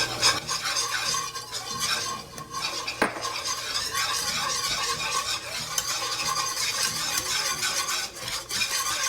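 Flour cooks in bubbling butter for an Alfredo sauce, a steady close sizzle broken by repeated scraping and clinking of a utensil stirring against the pan.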